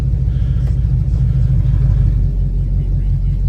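An older car engine with no muffler rumbles loudly and close by, a deep, uneven throaty roar that holds steady throughout.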